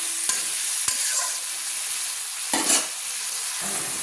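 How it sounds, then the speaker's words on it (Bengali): Onions frying in a pan over a medium flame for a chicken curry with coriander leaves, a steady close sizzle with a few sharp stirring scrapes and clicks breaking through. "2-3 মিনিট ধরে আমি পেঁয়াজগুলো একটু হালকা ভেজে নিচ্ছি"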